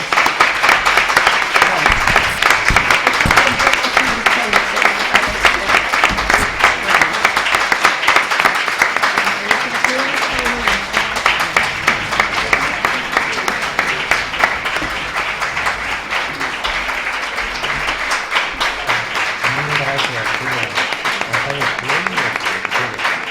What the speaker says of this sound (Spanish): Estos aplausos son todos para la Casa de la Poesía